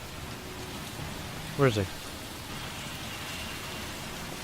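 Steady rain falling in the video game L.A. Noire, an even hiss of rainfall throughout with a brief spoken line partway through.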